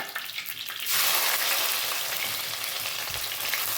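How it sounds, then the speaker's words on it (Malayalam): Crushed garlic and shallots sautéing in hot coconut oil, a loud steady sizzle that jumps up sharply as they go into the pan and then crackles on evenly, close by. "ഇതെല്ലാം കൂടെ ഈ വെളിച്ചെണ്ണയ്ക്കകത്ത് കിടന്നൊന്ന് വഴണ്ട് വരട്ടെ"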